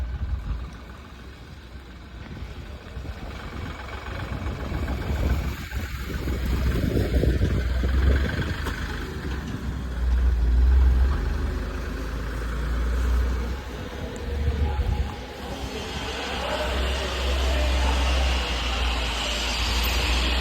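A goods truck's engine idles and rumbles as it reverses inside, the low drone swelling and easing through a maneuver of roughly twenty seconds, fairly close, with no talk over it.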